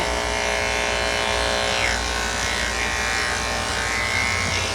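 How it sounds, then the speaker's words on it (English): Electric clippers buzz steadily and close up while shaving the legs of a senior dog during grooming, a continuous motor hum with no talk over it. "I'm going to show you how I shave the legs here"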